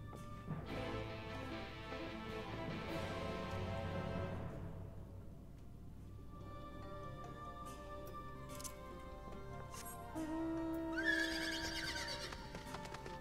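A horse in Final Fantasy XIV: Shadowbringers gallops with rhythmic hoofbeats and lets out whinnies, set against game music and ambience, with no talking over it.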